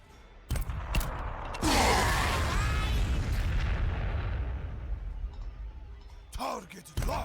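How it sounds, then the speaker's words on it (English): Frag grenade blasts go off in the strategy video game Warhammer 40,000: Sanctus Reach. A sharp pop is followed by a heavy booming explosion that rumbles and fades over several seconds, with brief voices at the start and end. "let's just throw frag into the middle of this."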